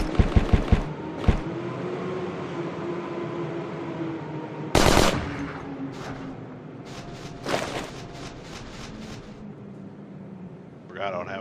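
Video game gunfire opens with a short rapid burst of shots, then scattered loud bangs and crackles over a steady engine-like rumble, with speech-like sound underneath.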